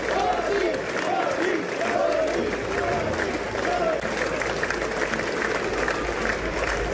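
Members of the US Parliament give Prime Minister Modi a standing ovation. Sustained crowd applause and cheering fill the whole stretch at a moderate distance, with a voice talking over it.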